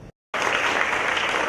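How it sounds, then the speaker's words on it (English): Audience applause at a community event swells in after a brief silence, a dense, loud, steady wash of many hands clapping together. "Y'all can stop clapping now."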